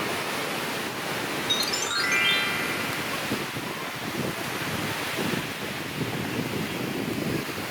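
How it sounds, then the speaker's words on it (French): Rough surf roars continuously on a beach in India with wind buffeting the microphone, a steady wash of noise with no voices. "la mer est démontée, il y a du vent"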